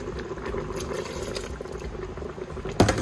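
Liquid pours and bubbles steadily into a hot pan, a continuous fizzing simmer with a brief louder splash near the end.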